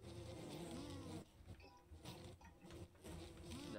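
Buzzing of bees in a video game, a droning insect hum with wavering pitch that dips and swells, fairly faint and continuous.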